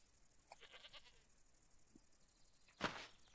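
A goat in the video game Goat Petting Simulator gives a faint, brief bleat from a distance over a quiet background hum.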